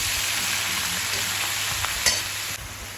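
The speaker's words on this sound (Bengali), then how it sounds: "এই বাঁধাকপিটা তেলে নাড়াচাড়া করা হয়ে গেল" Boiled cabbage sizzles and crackles steadily in hot oil in a pan while being stirred, with occasional scrapes of the spoon, close and continuous.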